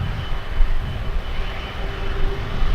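An Airbus A330-300 jet at Miami International Airport gives a steady, loud, broad engine roar that holds even throughout, with no voices.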